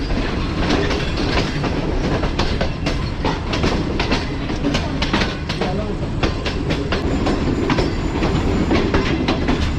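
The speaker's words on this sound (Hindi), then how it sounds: "हमारी ट्रेन अप्रोच बना रही है लाला मूसा जंक्शन रेलवे स्टेशन पर" The Tezgam express rumbles loudly into Lala Musa Junction railway station, wheels clattering in a steady clickety-clack over rail joints, heard close from inside a carriage.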